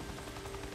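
In the Days Gone video game, a helicopter's rotor gives a steady, dense mechanical drone that stays loud and constant for a brief moment, with no talking.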